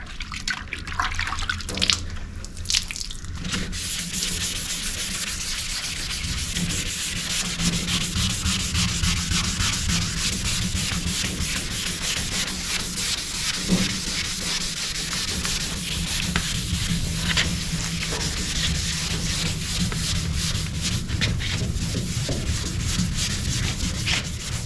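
Continuous, steady rasping of sandpaper rubbed back and forth over a car body panel being prepared for paint, close and fairly loud, with no talking.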